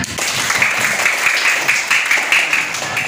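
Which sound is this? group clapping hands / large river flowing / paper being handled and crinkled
group clapping hands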